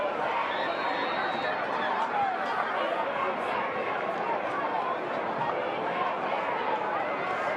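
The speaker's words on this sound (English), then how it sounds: "the "We Can't Hear You" chant has erupted here in Highlander Stadium" A student section crowd at a high school lacrosse game in Highlander Stadium roars in a dense, continuous wall of massed voices, loud and steady throughout with no single talker standing out.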